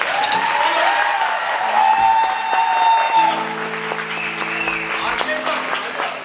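Applause from a live audience at a Gaziantep café comedy and music show, dense and steady with tonal music and voices mixed in throughout.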